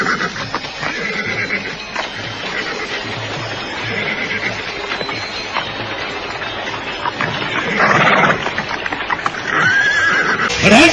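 Several horses whinny repeatedly amid busy clip-clopping hooves and stamping, loud and close, in a dramatized scene of soldiers arriving at a riverbank, growing denser toward the end.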